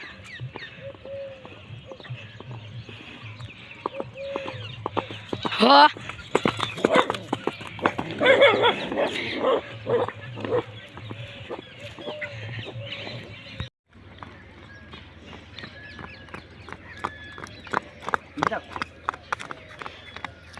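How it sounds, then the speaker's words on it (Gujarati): A mare walks toward a village home, her hooves clip-clopping in a steady uneven rhythm, close and fairly loud. Dogs and chickens sound in the background, people speak briefly, and there is a short break midway. "આપણી ઘોડી આવે છે।"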